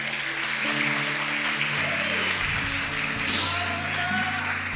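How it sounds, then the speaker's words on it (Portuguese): Church congregation applauding for Davi during a sermon, a steady wash of clapping under a hum, moderately loud with faint voices in the background. "Palmas para o Davi, gente."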